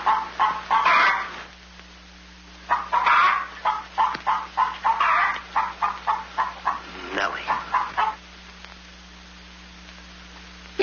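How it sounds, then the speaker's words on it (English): A hen clucks in a rapid series of short, rhythmic bursts, loud and close, with a brief pause partway through before a longer run of evenly spaced clucks, and faint background hum. "Lay, hen, lay."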